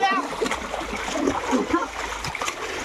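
Water splashes and sloshes repeatedly as people play in it, with voices talking and calling over the watery splatter.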